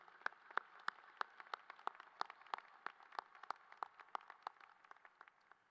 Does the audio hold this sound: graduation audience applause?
yes